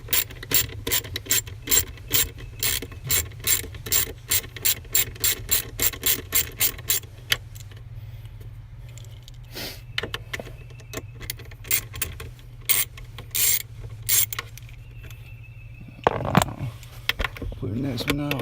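Hand ratchet backing out 7mm bolts during a performance chip install, a close, rapid series of clicking strokes in steady bursts, then slower scattered clicks and handling noises, with someone talking briefly.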